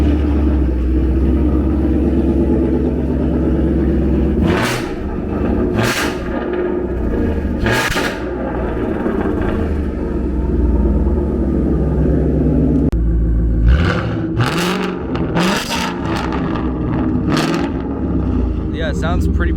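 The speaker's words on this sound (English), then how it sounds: "it's still cool to hear two different Mustangs start up, so I'm going to go ahead and start mine as well." A Ford Mustang GT with a catless X-pipe exhaust starts and revs, giving a loud, deep idle rumble broken by several sharp rev blips, then a second burst of revving after a brief drop.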